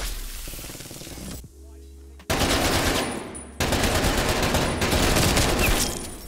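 Gunfire in a video game aimed at a window: dense rapid bursts of shots fill most of the stretch, with a short quieter gap between volleys, loud and close.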